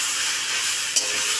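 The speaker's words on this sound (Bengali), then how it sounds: "এদিকে শাক ভাজা চলছে" Kalmi greens (water spinach) fry in a pan with a steady, dense sizzle and hiss, close and continuous, with no voices over it.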